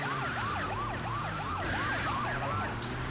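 A wailing police siren chases the player in the video game GTA 2, sweeping up and down rapidly and steadily across a few seconds, loud over low game engine rumble.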